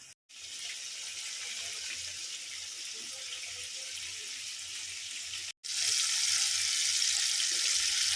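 Chicken pieces deep frying in hot oil at normal heat for a KFC-style snack, a steady broadband sizzling hiss with two brief dropouts, growing brighter and louder after the second.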